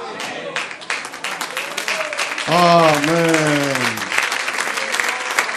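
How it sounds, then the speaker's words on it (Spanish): A church congregation applauding in steady, dense clapping throughout, with a voice calling out loudly over the applause partway through. "Aplaudiendo."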